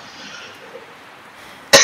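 A single sharp cough bursts out close and loud right at the end, after a stretch of quiet background hiss.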